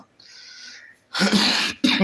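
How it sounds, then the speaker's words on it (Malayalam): A harsh, explosive cough from a person who says they caught it at a temple festival, coming in two close, loud bursts after a softer breathy sound. "എൻ്റെ നല്ല ചുമയൊക്കെ ആയി"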